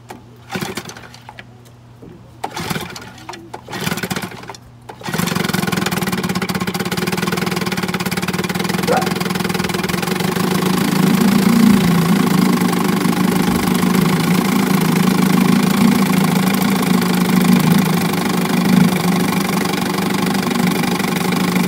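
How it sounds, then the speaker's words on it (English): A 1959 Evinrude 10 hp outboard motor is cranked with a few rough pulls and short bursts, then catches and settles into a steady, close, buzzing run with a slight knock that continues to the end. "Lives 59 Evinrude, 10 horsepower."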